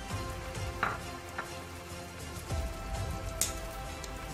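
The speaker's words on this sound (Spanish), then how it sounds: "vamos a añadir el tomate que lo hemos rallado y vamos a, echarlo junto con la cebolla para que también se sofría" Grated tomato fries with onion in a pan for lentils with chorizo, a soft steady sizzle and crackle with a few light clicks of stirring, quiet and close, with no talking.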